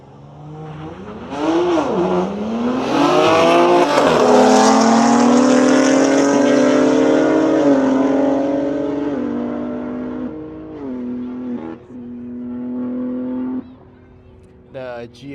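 A BMW G82 and a G80 launch in a drag race on a track, engines revving hard and rising through gears as they accelerate away, loud and close, then shifting and fading toward the end.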